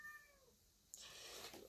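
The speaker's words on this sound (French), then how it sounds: "Et il y a Bouti qui fait des miaou." A pet cat named Bouti meows faintly at first, a thin drawn-out call, followed by a sudden broadband rustle and hiss nearby.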